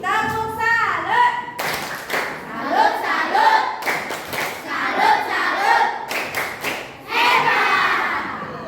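A group of women in a school setting performs the 'tepuk salut' clap routine, with lively patterned clapping mixed with chanted voices and cheering.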